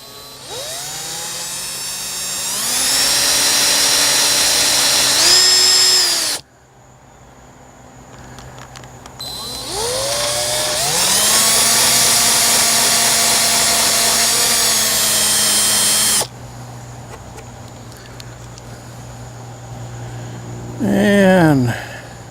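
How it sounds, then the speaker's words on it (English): A power drill bores a couple of peg holes into a Star Wars arcade cabinet under repair, whining loudly in two long bursts with a rising pitch, separated by a quieter pause, with a brief spin-up near the end. "we're just going to go ahead and just drill a couple holes in here"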